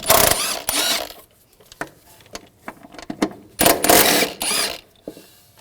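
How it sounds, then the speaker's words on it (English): A 13mm socket wrench removes the rear shock absorber bolts on a 2006-2009 Audi S4, giving short bursts of close ratcheting clicks that are separated by quieter pauses and small knocks. "Using a 13mm socket, take these two bolts out."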